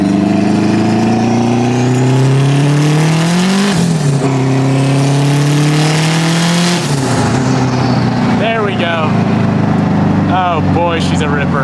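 Car engine, running on 20 pounds of boost, climbing through a full-throttle pull with rising harmonics, a brief shift dip around four seconds, a second climb, then off-throttle pops and crackles near the end, loud and close.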